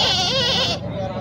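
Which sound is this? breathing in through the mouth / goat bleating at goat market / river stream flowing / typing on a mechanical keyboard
goat bleating at goat market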